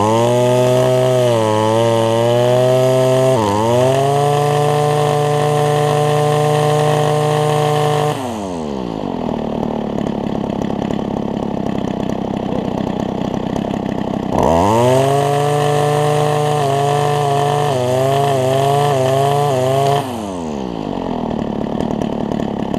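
A Ryobi BC30 two-stroke string trimmer fitted with a new HIPA carburetor kit, loud and close, revving up in buzzing surges and dropping back to a rough idle twice, with no talk.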